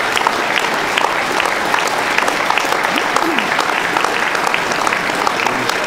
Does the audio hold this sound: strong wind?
no